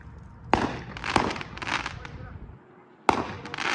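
Fireworks burst outdoors with sharp bangs at a distance, three distinct reports separated by crackling rumble and decay.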